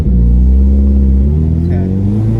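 A K-swapped car pulls away in first gear, its engine droning loud and close with rising harmonics that climb steadily as it accelerates, a faint voice briefly audible over it.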